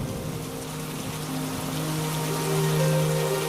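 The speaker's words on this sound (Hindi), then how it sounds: "तभी अचानक फिर से भयंकर बारिश शुरू हो जाती है।" Heavy rain pours in a steady, dense hiss that swells slightly louder toward the end, with no voices.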